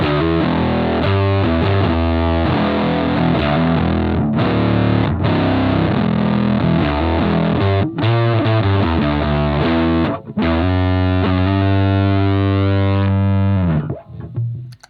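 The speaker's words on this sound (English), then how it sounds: "You've almost got like a squelchy, scratchy. It sounds damaged." Bass guitar played through an Ibanez FZ7 fuzz pedal, a loud, continuous squelchy, scratchy distorted tone with chugging notes and bends that breaks off abruptly near the end.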